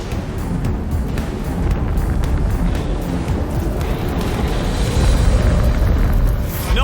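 Atlas Able rocket blowing up on its launch pad, liquid oxygen feeding a kerosene fire: a sustained, loud low-frequency roar and rumble that swells toward the end, with no voices.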